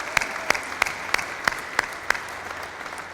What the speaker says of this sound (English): a big hand of applause for Dan and his team in putting this togethe